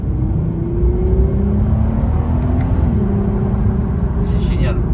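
An Audi TT 3.2 V6 with about 220,000 km idles and runs with a steady, close metallic engine drone and low rumble, holding even without revving.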